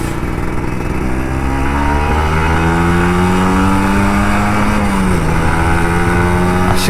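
An older Kawasaki Ninja RR 150 two-stroke motorcycle being ridden, its engine loud and close with a buzzing drone that climbs steadily in pitch, dips briefly as it shifts, then rises again.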